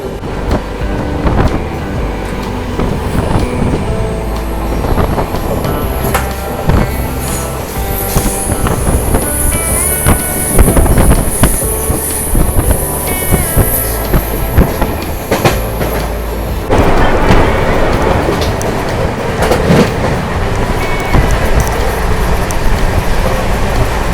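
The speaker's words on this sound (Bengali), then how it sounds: "আমাদের ট্রেন এই মুহূর্তে স্কিপ করছে বাগরাকোট স্টেশন" The Kanchankanya Express runs past Bagrakot station in hilly country, a loud continuous rumble with rhythmic clickety-clack of wheels on rails and a high squeal of wheels for a long stretch.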